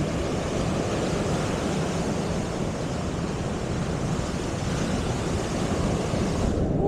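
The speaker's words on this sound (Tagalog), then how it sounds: "Ang lalaki ng alon." Heavy ocean surf roars steadily at a beach during a storm, a dense wash of crashing waves with wind noise and no pauses.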